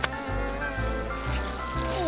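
Close, continuous insect buzzing with a steady drone that swells and dips slightly, heard alone without talking.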